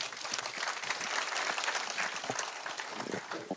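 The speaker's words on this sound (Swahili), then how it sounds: "Pigia makofi, Commissioner." An audience at a public security forum in Kiambu County claps to welcome the Commissioner, a steady, fairly distant patter of applause that holds throughout without speech.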